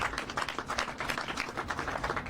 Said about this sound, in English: Let's give a round of applause to our LAFD CERT teams as well.